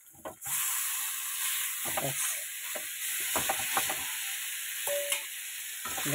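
A fish head hisses and sizzles steadily in hot oil, close up, with scattered scraping and clinking as it is stirred in the pan.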